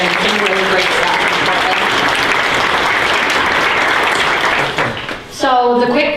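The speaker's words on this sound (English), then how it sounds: "I just want to give them a quick round of applause" An audience at a NewTech PDX tech meetup applauds the speakers, a dense, loud burst of many hands clapping that fades near the end before a voice begins speaking.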